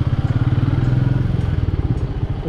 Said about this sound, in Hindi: बाइक यहाँ पे लगा लेते हैं